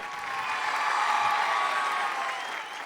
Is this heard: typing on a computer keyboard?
no